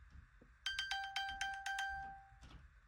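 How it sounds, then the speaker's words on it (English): An iPhone beeps in a find-my-phone alert triggered from an Apple Watch, giving a run of about eight bright, even, evenly spaced electronic tones, fairly close and clear over a quiet room with no talking. "my phone will start beeping"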